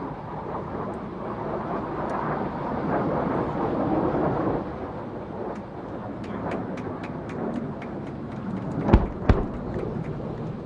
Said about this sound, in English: The Mirages are now running in.